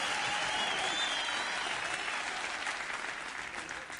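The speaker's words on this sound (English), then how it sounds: "Oh, round of applause." A crowd applauds loudly and steadily, a dense wash of clapping that gradually thins toward the end.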